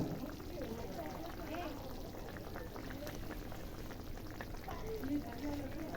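Stingray fish pieces go into a bubbling curry gravy, giving a steady wet simmer with soft pouring and splashing of liquid under a faint murmuring voice.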